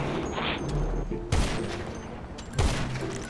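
Gunfire in the GTA video game: bursts of rapid shots, with two sharp loud blasts standing out over a steady background of game noise, close and fairly loud.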